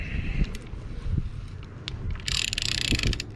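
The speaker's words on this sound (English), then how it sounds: "Bring the ratchet back out." A hand ratchet clicks in a quick, close burst while tightening the seatbelt buckle bolt in a Jeep TJ, after a moment of softer metallic handling.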